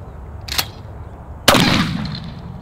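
A single 20-gauge Franchi Affinity shotgun blast fired outdoors during pattern testing with a Muller Decoy choke, a sharp loud report with a short decaying tail, preceded by a fainter click or pop.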